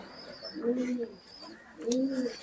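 Two soft, low coos from Kuwaiti Teddy pigeons sound close by, separated by a short pause, over a quiet background.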